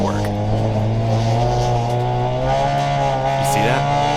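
A race car engine holds a loud, steady drone on a wet Road Atlanta track at about 45 degrees, with faint pitch changes and brief squeals, under a person talking.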